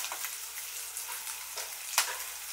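Boiled potato pieces frying in a pan, giving a continuous close sizzle with soft crackles and a brief scraping stir near the end.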